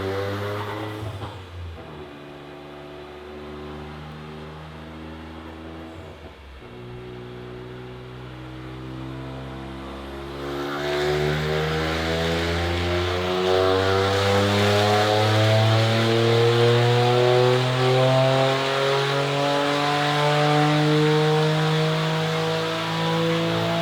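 A Toyota GR Corolla with a modified intake makes hard wide-open power pulls on a chilly day, its engine note climbing steadily and getting louder with no talking.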